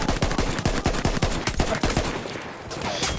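Rapid machine gun fire in the video game Battlefield 1, a loud, dense burst of evenly spaced shots running nearly the whole time, easing briefly before resuming.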